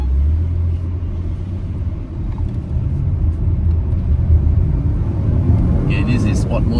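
A Volkswagen Touareg accelerates in sport mode, its engine a steady, loud low rumble heard from inside the cabin throughout.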